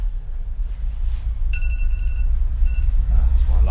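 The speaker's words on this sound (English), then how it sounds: "That's my alarm." Phone alarm going off, a thin, faint electronic beeping tone that sounds twice in short bursts over low rumbling background noise.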